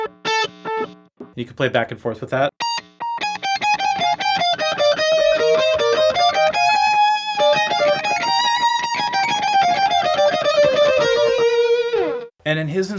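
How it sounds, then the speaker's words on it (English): Electric guitar with a delay effect set slightly behind each picked note, so the repeats sound like a second guitar playing along; a sustained, singing melodic line, with a few short bursts of talk near the start. "So that's just a delay set a little bit later than when I hit the note"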